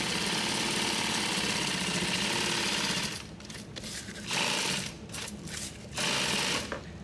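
A sewing machine stitching nylon tactical gear runs in a steady loud whir, then pauses and restarts in short bursts, close-up.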